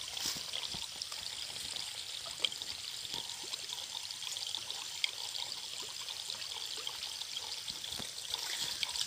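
Water from a gravity-fed pipe line pours and trickles in a steady, even stream, moderately quiet with no voices over it.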